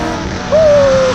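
A 600 hp Audi RS3 pulls in second gear from 3,000 rpm, its steady engine drone rising to a loud, sustained tone heard from inside the cabin.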